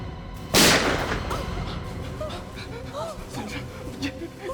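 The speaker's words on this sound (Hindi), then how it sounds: "इस गोली की आवाज को सबने बाहर सुना होगा, सबने।" A single loud gunshot rings out in a tense indoor scene of a crime drama, a sharp burst followed by reverberant decay, with people's agitated voices carrying on beneath and after it.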